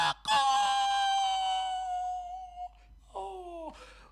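A chicken crows nearby in a long, loud, drawn-out call, then gives a shorter second call after a brief pause.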